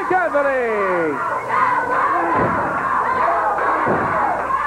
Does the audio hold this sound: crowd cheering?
yes